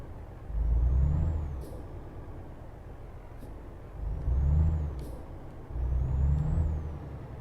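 A heavy truck in Euro Truck Simulator 2 backs up and turns around, its low engine rumble swelling in three loud surges with faint high air-brake hisses between them.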